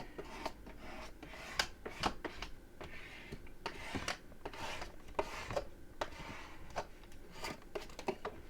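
Quiet, steady rubbing and scraping as tape pieces are burnished down on a writing pad folio, with soft irregular ticks and strokes close by.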